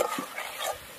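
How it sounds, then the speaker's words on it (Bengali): Potatoes and spices are stir-fried in a pot, giving a brief close scrape and shuffle of a spoon with a light sizzle beneath it. "এবার আলু দিয়ে মশলা সব কষিয়ে নেব।"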